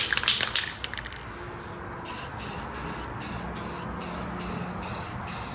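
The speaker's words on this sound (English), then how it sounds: "I'm gonna hit it with the last coat of clear coat" A spray gun lays clear coat onto a Yamaha F25 outboard cowling, giving a steady hiss that runs the whole time with brief rhythmic pulses of overspray, close and fairly loud, with no talking.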